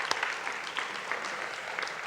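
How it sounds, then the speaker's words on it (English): An audience claps for a rabbi at an evening gathering with a Jewish crowd, steady moderate applause from a room of listeners with a few sharper claps standing out. "So another round of applause for the rabbi"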